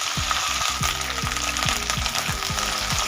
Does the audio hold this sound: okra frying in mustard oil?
yes